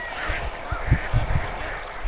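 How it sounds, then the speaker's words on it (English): Ducks call by a tidal shore with a rapid run of loud, close quacks and honks over a steady hiss of wind and water. "We got some ducks out here too."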